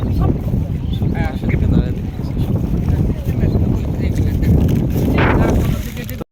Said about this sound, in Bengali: এখানে ভরপুর পানি তার উপরে বাতাস এই পরিমাণে বাতাসের দিকে তাকালে বুঝতে পারতেছেন প্রচুর বাতাস হচ্ছে